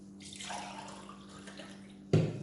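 Water is poured from a jug into a glass, a soft close trickle and splash that runs for a moment, followed by a sharper burst of liquid near the end.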